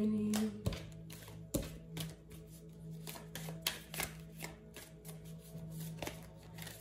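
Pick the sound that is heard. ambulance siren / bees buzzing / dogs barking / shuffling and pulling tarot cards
shuffling and pulling tarot cards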